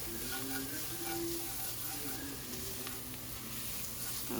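Onion with a little salt frying in a pan, a soft continuous sizzle heard faintly and evenly throughout, with a faint background hum and no breaks.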